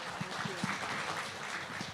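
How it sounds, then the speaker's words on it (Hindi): An audience claps in welcome for politician Priyanka Chaturvedi at a Hindi-language event, a steady round of applause of moderate loudness with a faint low voice or murmur beneath, continuing evenly for the whole stretch. "जोरदार तालियां एक बार फिर से।"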